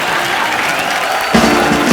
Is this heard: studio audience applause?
yes